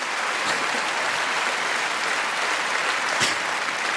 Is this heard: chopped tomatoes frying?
no